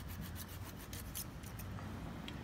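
A butter knife scrapes against a sharpener in a quiet, continuous metallic rasp with faint rhythmic strokes, close by but low in level.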